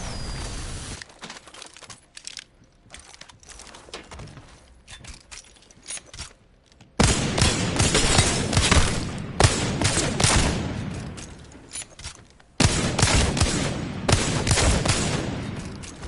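Rapid automatic gunfire from a Flatline rifle in Apex Legends, in long sustained bursts broken by short pauses, loud and close with no talking.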